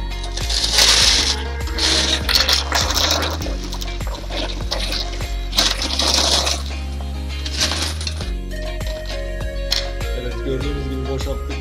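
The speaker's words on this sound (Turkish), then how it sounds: "Şöyle paralarımızı masamıza koyalım." Coins from an emptied piggy bank spilling and clattering onto a table in bursts, bright jingling metal clinks repeated over several seconds under steady background music.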